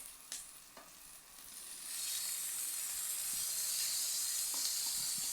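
Ginger stirring in a hot pan for mussel adobo, a steady close sizzle that swells louder after the first couple of seconds, with a few soft spoon scrapes and no talking.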